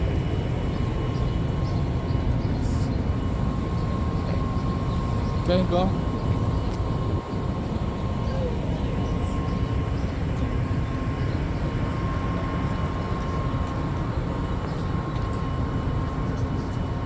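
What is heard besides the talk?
train ride from Fresno to Hanford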